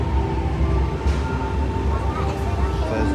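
Low rumbling of a metro train in motion in Singapore, with rattling and a faint high whine, fairly loud and continuous throughout.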